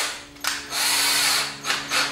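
Pilot holes drilled for a spoiler conversion kit on a C7 Corvette, with a power drill whining in short close bursts and a brief pause between them, no voices.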